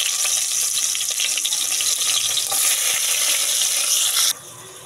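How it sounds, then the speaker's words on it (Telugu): Onions frying in hot oil in a kadai, a steady bright sizzle with wet crackling that runs loud and unbroken, then cuts to a softer hiss near the end. "ఆయిల్ అయితే హీట్ అయిపోయింది అందులో ఆనియన్స్ అయితే వేసేసుకోవాలి"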